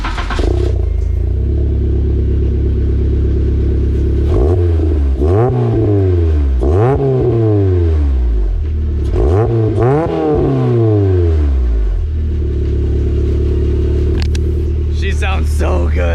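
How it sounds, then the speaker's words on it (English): A K-swapped Toyota MR2 engine revs hard through a brand new loud exhaust, rising and falling in several sweeping bursts over a deep, rumbling idle. "Let me show you a sound clip of the brand new exhaust."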